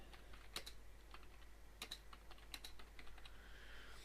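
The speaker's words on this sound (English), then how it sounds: "You can just like type any old thing" Keys clack on a computer keyboard in short bursts of a few quick strokes, set against a steady low electrical hum, with no one talking.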